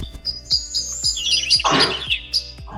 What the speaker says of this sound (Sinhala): කුරුල්ලන්ගේ සද්දයක් නම් ඇහෙනවා.